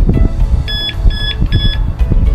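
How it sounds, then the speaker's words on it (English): A Nulock smart lock with alarm gives three short, evenly spaced high beeps as it arms, heard close and clear over low handling and rustling noise. "it gave 3 beeps to say it's armed"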